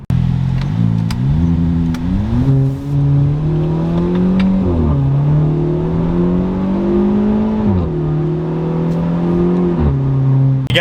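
A 2022 Kia Forte GT with its exhaust mufflers removed, driving with a loud, raspy engine note close by. The revs climb and fall through several shifts, and the engine drones steadily between them, with no talking.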